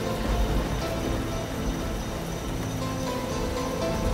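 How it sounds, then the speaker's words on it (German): Steady rain in a deserted outpost, heard as an even, continuous patter and hiss of drops with faint low rumbles, moderately loud and without any talk. "Es regnet."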